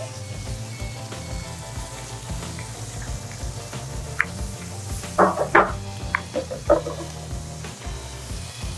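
Bacon sizzles on a barbecue restaurant griddle as a steady low hiss, with a few sharp clinks and pops of utensils partway through, and no talk is heard.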